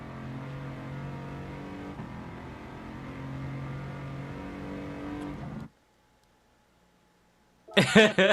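A truck engine in Gran Turismo 7 drones steadily with rising and falling revs for several seconds, driven fast in snow, then cuts out abruptly to near silence before a short burst of noise.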